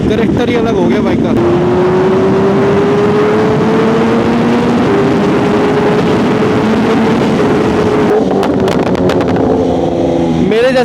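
BMW S1000RR sportbike with a stage 2 tune and aftermarket exhaust, engine note droning steadily and rising in pitch over about eight seconds, then a sharper rev near the end; loud and close, with a voice talking over it.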